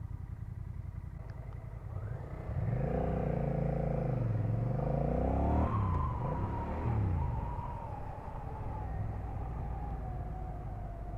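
A 2024 Honda Rebel 1100 motorcycle under way, its engine note climbing, dipping and climbing again through gear changes over a steady rush of wind, then settling into a quieter cruising hum.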